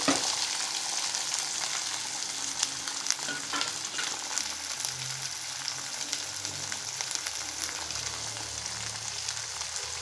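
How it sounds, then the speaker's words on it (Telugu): Capsicum pieces fry in hot tempering oil, giving a steady, close sizzle with occasional stirring scrapes and crackles throughout. "పోపు వేగిపోయింది. ఇప్పుడు క్యాప్సికమ్ ముక్కలు వేస్తాం."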